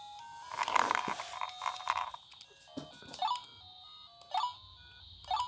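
Beeping chiptune music and electronic blips play from a Super Impulse Tiny Arcade Frogger handheld machine, a soft melodic run followed by several short separated beeps, faint and close by.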